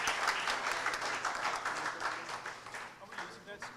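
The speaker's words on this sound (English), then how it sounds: "I want you to give him a big round of applause" A convention audience gives a round of applause, a fairly quiet wash of clapping that gradually thins out toward the end, with faint voices mixed in underneath.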